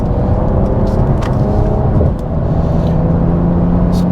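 A 2020 Mercedes-Benz C43 AMG 4Matic accelerates up to speed with a loud, close, continuous engine and road roar that holds steady throughout, with no talking.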